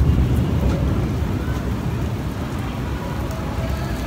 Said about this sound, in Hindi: ये अभी कोई 4 से 5 मिनट की बारिश है और इस तरह लग रहा है कि कोई क्लाउड बर्स्ट है